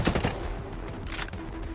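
Bursts of gunfire in Ghost Recon Breakpoint, a dense volley at the start and another around the middle, loud and close against a steady combat background, with no talk.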